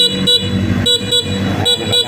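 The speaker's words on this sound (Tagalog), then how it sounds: "Matinis yung kanyang horn" A shrill, high-pitched horn on a Rusi Flame 150 X motorcycle honked in several short bursts, close and loud, with brief gaps between beeps.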